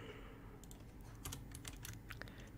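Keys clack in quick irregular bursts as code is typed on a computer keyboard for an OpenCV Python tutorial, faint and close against a low steady hum, with no talking.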